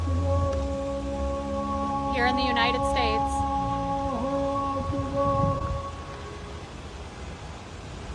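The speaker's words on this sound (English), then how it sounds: "This is the call of prayer." Islamic call to prayer broadcast over loudspeakers in Dearborn, Michigan: a sustained melodic chanted voice with long held, wavering tones, carried across the neighborhood, with a brief spoken comment in the middle and the chant fading toward the end.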